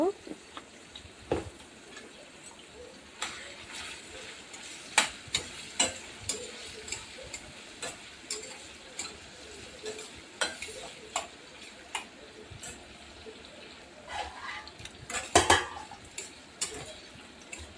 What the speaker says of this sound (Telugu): దీన్ని ఇలాగా కలుపుకుంటూ ఫ్రై చేసుకోవాలి మాడిపోకుండా